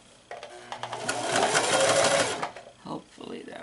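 A sewing machine stitching a fabric mask starts up and runs in a rapid, rattling burst lasting just over a second, heard nearby, with a person talking before and after it.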